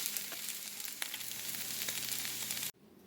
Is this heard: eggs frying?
yes